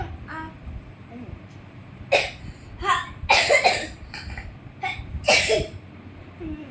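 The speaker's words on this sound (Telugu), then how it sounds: "ఆపు ఆ దగ్గు" Repeated bursts of coughing, loud and close, scattered irregularly over several seconds against a low background rumble.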